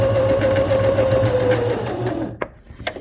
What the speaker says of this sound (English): And I'm just going to sew.